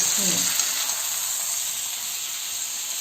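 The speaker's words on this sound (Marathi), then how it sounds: "अशी बटाटी उलटी सुलटी फिरवत फिरवत आपण फ्राय करून घ्यायची." Potatoes fry in hot oil with a loud, continuous close sizzle and hiss, with a brief scrape as pieces are flipped.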